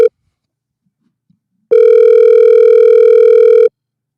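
A telephone tone sounds on an incoming call to a radio call-in show, a single steady electronic tone held for about two seconds after a brief blip and a pause, loud and alone with no talking.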